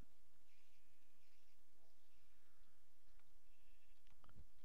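Faint Minecraft sheep bleats sound a few times over a quiet background, with a soft thump near the end.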